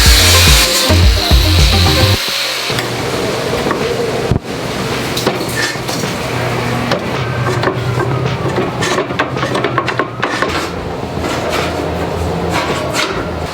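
A power tool saws through 2-inch wide flat steel stock in a metal shop, with a loud low hum at the start giving way to rough, scraping cutting and a few clanks from the metal.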